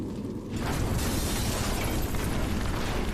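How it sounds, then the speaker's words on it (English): A massive explosion in the style of an action-movie finale erupts as a loud, dense roaring blast that swells after a brief lull and rumbles on without letting up, with no voices. "a massive explosion swallows everything"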